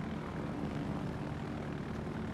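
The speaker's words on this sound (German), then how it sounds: "Wir fliegen schon mal vor mit dem Flugzeug" A propeller plane drones steadily in World of Warships, a continuous loud engine hum with no speech over it.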